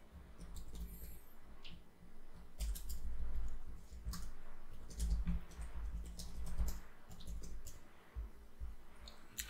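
Keys clatter on a computer keyboard as a password is entered during a web server setup, a steady run of quick, close clicks and taps lasting throughout with no voices.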